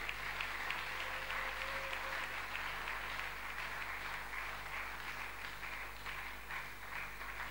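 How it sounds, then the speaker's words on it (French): An audience in a church breaks into steady, sustained applause, heard at a moderate distance with a faint low hum beneath it and no talking over it. "Acclamation pour notre Dieu."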